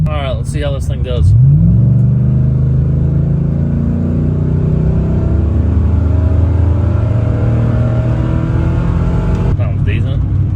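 A truck with a freshly welded custom exhaust revs up hard and then pulls away, its deep exhaust drone loud and sustained, with a voice briefly heard at the start and end.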